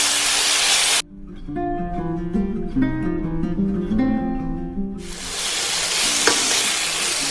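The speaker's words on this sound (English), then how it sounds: "To coat all our pork belly with sugar" Pork belly is stirred with sugar in a clay pot, giving a loud, bright sizzle and frying hiss that drops away for several seconds behind music, then returns strongly.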